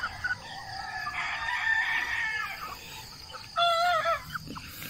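Young stag roosters being raised for a banding event crow at a moderate distance, with two or three drawn-out calls rising over faint clucking and farmyard background.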